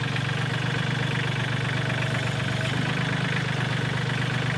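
A vehicle engine in low gear pulls a 900-pound, 30-foot ridge timber toward a sawmill, a loud, steady, close droning rumble with constant vibration and no speech.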